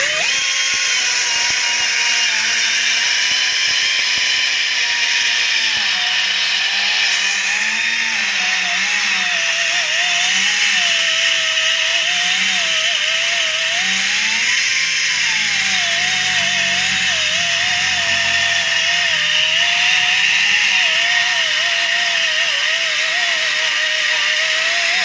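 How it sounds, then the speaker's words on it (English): A carbide cutter on a power tool grinds down a brake caliper to trim it for fitment, a loud, continuous high-pitched whine whose pitch wavers as the load changes, alone for the whole stretch. "We're lucky we got one of these carbide cutters. And it takes quite a bit of material off pretty fast."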